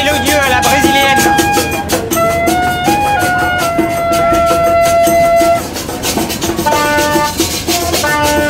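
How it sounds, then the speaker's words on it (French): A train in Bahia, northern Brazil, sounds a melodious multi-tone horn, with long, loud, shifting notes played close by over rumbling rail noise, then shorter repeated horn phrases. "C'est le klaxon du train, et en plus mélodieux à la brésilienne."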